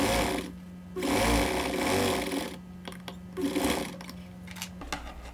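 A sewing machine stitching shirt-sleeve fabric, running in loud steady bursts with a brief pause between runs, close up and alone.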